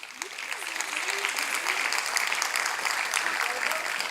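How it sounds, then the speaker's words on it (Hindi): Audience applauding after a group dance performance at an Indian patriotic cultural program, steady, fairly distant clapping throughout, with faint voices underneath. "जोरदार तालियां इन सभी के लिए."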